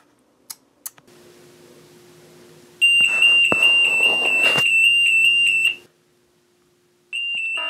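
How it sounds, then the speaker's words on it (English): A pulled fire alarm sounds a loud, steady electronic tone that holds for about three seconds, cuts off, then starts again near the end, with a low hum and a few soft clicks beforehand. "Miss Tori, the fire alarm is going on."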